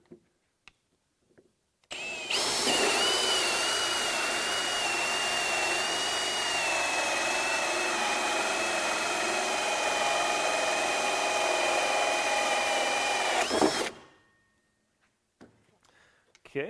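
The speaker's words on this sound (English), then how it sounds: "Okay, well that was definitely a faster drilling experience." A Milwaukee Hole Dozer hole saw, with the updated all-access slot design and locked tight in a drill chuck, cuts through material in one steady, loud whine of about twelve seconds that starts and stops abruptly.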